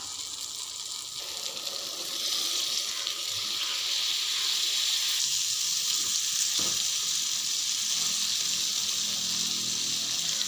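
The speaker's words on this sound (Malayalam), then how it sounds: "ഇനി നമുക്ക് ഇതിലോട്ട് നമ്മുടെ ചെമ്മീൻ തല ഇടാം" Prawn heads sizzling as they drop into a pan of fried masala with a little water, a steady loud crackling hiss that starts after about two seconds and continues alone.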